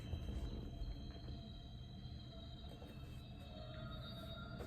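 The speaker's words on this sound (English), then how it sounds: "It's the loudest train I've heard." A train rumbles steadily in the distance, with a low continuous roar and faint high metallic squeals from the wheels.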